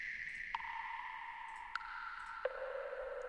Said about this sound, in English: like a wood block essentially, and again being put through some reverb